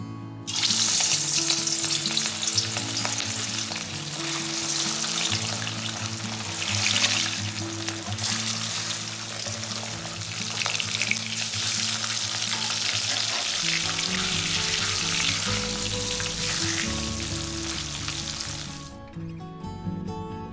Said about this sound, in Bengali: কড়াইতে সর্ষের তেল দিচ্ছি আগে মাছগুলো ভেজে নেবো